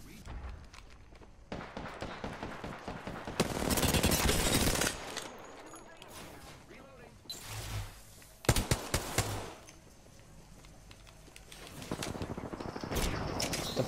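An enemy squad fires at the player in the Apex Legends video game: loud bursts of automatic gunfire come in separate volleys between quieter stretches of footsteps and game noise, with a voice talking.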